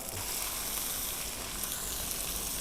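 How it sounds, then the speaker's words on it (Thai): Pork hits a hot pan and sizzles loudly in a dense, even hiss that stays constant and close for a few seconds, alone with no talk. "เราก็ใส่หมูลงไปนะครับ"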